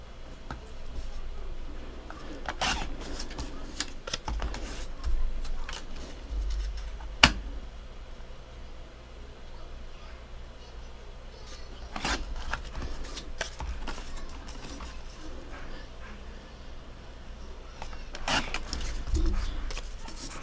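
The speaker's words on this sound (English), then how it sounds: "I'm going to cut out the rest of these squares." Scissors or a blade slice steadily through dark brown paper squares, with soft rubbing, rasping strokes and occasional sharp clicks, close and fairly quiet, no talking.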